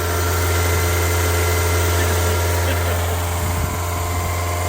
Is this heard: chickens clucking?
no